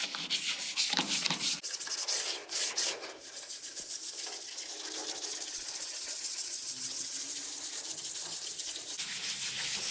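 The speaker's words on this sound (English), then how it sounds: "scrub it in, rub it in circles" A toothbrush scrubs toothpaste into a car taillight, a close, steady scratchy rubbing in quick circular strokes, louder and choppier at first and then evening into a continuous hissing scrub.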